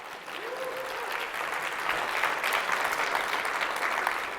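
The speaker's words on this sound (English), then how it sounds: "so a round of applause for Air Haven." An audience at a school drone racing event applauds the Air Haven team in a short, steady burst of clapping that swells slightly, with a brief voice at the start.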